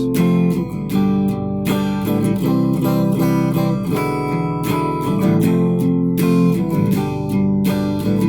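Strummed acoustic guitar chords of a song ring continuously with single melody notes picked in between, loud and close, with no voice.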